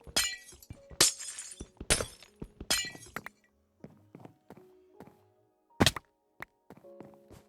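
Glass blocks shattering in Minecraft, a rapid run of four crisp breaking crashes in the first seconds, then quieter block thunks, footsteps and one more sharp break, with no talk.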